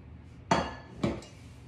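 A heavy enameled cast iron baking dish for peach cobbler knocks twice against a hard surface, two sharp clunks about half a second apart with a faint third tap, close by and without talk.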